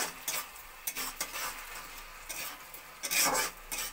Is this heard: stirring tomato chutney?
yes